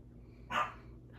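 A single short dog bark, somewhat distant and faint, rises briefly above a quiet low hum.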